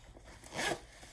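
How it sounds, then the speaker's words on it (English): A chunky plastic zipper on a large Vera Bradley backpack with metal pulls is drawn once in a quick, close rasping pull lasting about half a second. "the zippers on this one are the chunky plastic ones"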